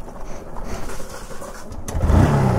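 A 2014 Yamaha R15 v2 motorcycle engine is started close up. Faint fumbling gives way, near the end, to a loud low cranking rumble as the engine catches.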